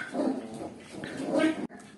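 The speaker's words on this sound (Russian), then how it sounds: "Вот там под ногами бегают, играются щенки." Several puppies play underfoot indoors, giving close, repeated whimpers and yips in two bursts, with a brief drop to near silence before a softer yelp at the end.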